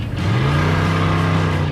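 A 250-cubic-inch Cadillac V8 making 170 horsepower revs loud and close, its pitch rising quickly and then holding a steady, throaty drone for over a second.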